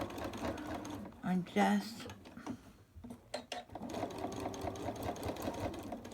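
A sewing machine stitches fabric with a steady mechanical whir, stopping briefly in short bursts before running on. A person talks over the stitching throughout.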